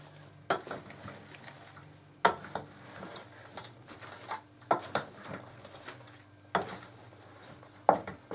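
Meat mixture for Brassói aprópecsenye being stirred in a pan, with repeated scraping strokes and clinks of a utensil against the metal over a soft sizzle, heard alone with no talking.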